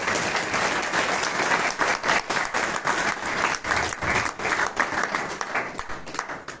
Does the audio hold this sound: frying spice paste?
no